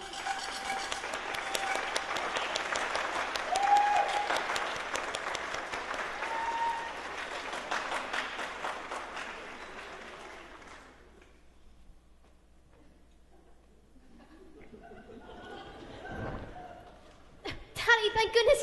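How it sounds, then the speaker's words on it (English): A theatre audience breaks into loud, dense applause that fills the room for about ten seconds, then fades out. Quieter stage sounds and voices follow, and a short new burst of clapping comes at the very end. "Clap if you believe!"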